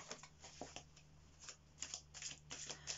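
A deck of tarot cards is shuffled by hand in a quiet room, with soft riffling bursts that come in uneven clusters and grow busier toward the end.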